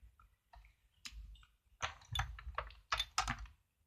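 A paper trimmer slicing cardstock during card making: a few light clicks, then a cluster of short scraping, rasping strokes from the blade, close and fairly quiet, with no voices.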